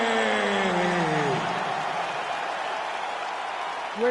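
Rowdy crowd applauding and cheering at a UFC fight event in the United Center arena in Chicago, a loud continuous roar of clapping filling the hall while a voice calls out over it at the start.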